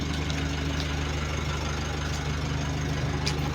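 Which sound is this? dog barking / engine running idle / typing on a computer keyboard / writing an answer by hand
engine running idle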